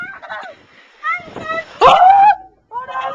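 Water splashes at the bottom of a playground slide in the rain, a short, sharp burst amid excited children's voices.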